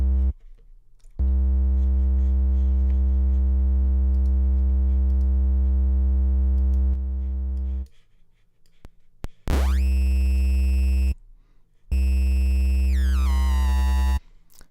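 A harsh, buzzy synthesized tone with stepped, gritty bitcrusher sample-rate-reduction distortion, shifting pitch in sections with brief gaps, ending in a rising sweep.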